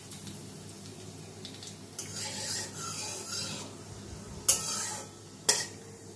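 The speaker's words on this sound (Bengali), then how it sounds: "সবার প্রথমে কালো জিরেটা আমি দিয়ে দিলাম, আর শুকনো লঙ্কার একটা ফাটিয়ে দিয়ে দিলাম।" Black cumin and a split dried chili tempering in hot oil for an ilish fish curry, a faint steady sizzle with a few scraping utensil knocks on the pan, alone with no voices.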